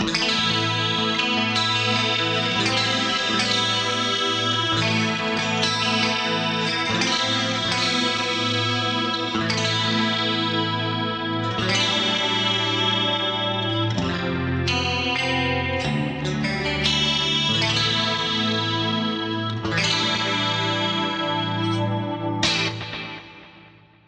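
Clean electric guitar chords and single notes through a Fractal FM3 with a wide, shimmering Dimension chorus effect at reduced depth, an 80s clean tone, ringing out alone before fading at the end.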